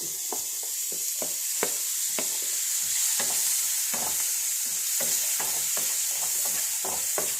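Beetroot fries in hot oil with chili powder, a continuous bright sizzle broken by repeated scraping stirs of a spoon in the pan, close and without talk.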